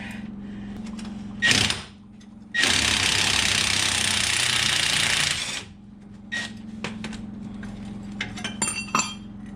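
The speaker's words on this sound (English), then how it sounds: "I'm gonna whack that with a hammer to get that out of the drag link" Two sharp metallic impacts of a hammer striking a Dodge Ram steering drag link ring out, the second a longer, harsh grinding clatter of a few seconds, followed by lighter clinks and taps close by.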